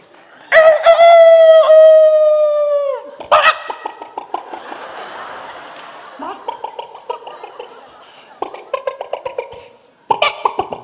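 A voice imitates a rooster with one long, drawn-out, loud crow, followed by a string of short, choppy coughing and chuckling bursts.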